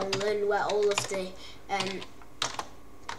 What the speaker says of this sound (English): I don't look at the screen when I'm typing